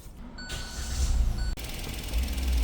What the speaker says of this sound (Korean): 이제 시동 걸고요